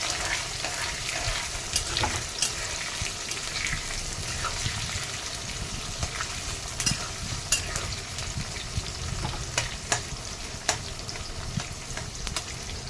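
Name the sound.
frying and stirring onion pieces in non-stick pan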